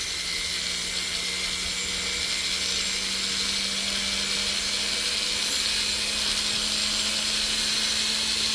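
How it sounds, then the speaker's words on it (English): Silicone polishing wheel smoothing the outside of a weld, a steady, unbroken high whirring grind with a constant hum beneath, running alone at even volume throughout. "since we got this silicone wheel, we're going to smooth out the outside of this"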